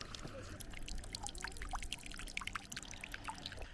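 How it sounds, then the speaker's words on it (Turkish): Water running from a drinking fountain outdoors in the Swiss Alps near Grindelwald, a close trickling, splashing pour with bright droplet spatters, steady and fairly quiet. "Çeşme buldum. Bir su içelim."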